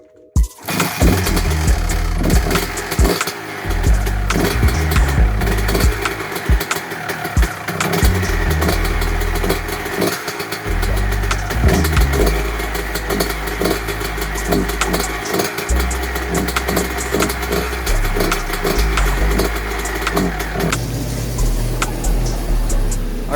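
A Honda CR125 two-stroke dirt bike engine warms up after a piston ring replacement, running loud and close for the whole stretch with revs rising and falling, no talking.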